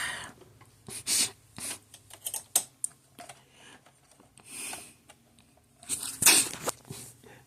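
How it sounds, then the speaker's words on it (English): Screws are fitted back into the front panel of a Magnavox DVD VCR combo during repair, giving close, irregular clicks, taps and scraping handling noises in uneven bursts with brief quiet gaps. "So let me go ahead and put the screws back in."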